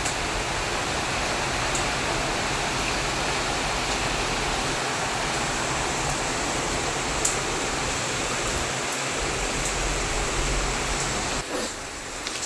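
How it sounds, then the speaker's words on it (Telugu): Heavy rain pouring outside with cool wind, a dense continuous hiss of falling water, steady and fairly loud throughout with no voices. "బయట చూసారా వర్షం అంటే ఎలా పడుతుందో"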